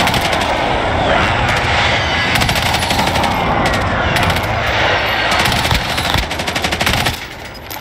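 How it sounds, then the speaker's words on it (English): A precision airstrike and gunfire rage in a battle royale video game, with dense, loud bursts of automatic fire and booming blasts running nearly nonstop before easing slightly at the end. "friendly precision airstrike inbound"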